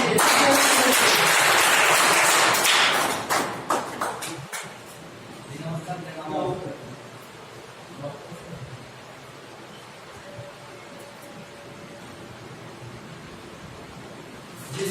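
An audience at a business meeting claps loudly for about four seconds; the applause then tapers into scattered claps and fades into a quiet room with faint murmuring.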